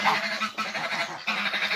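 A flock of farm geese and ducks honks and quacks in a lively, overlapping chorus. The calls are close and loud, sounding in quick bursts with short gaps and no talk.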